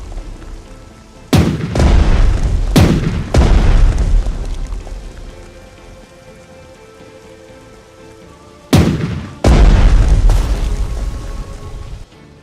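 In the naval strategy game Strategic Mind: The Pacific, the battleship Colorado fires armor-piercing shells: four heavy, booming salvos in two pairs, each with a rolling tail that fades into a quieter background.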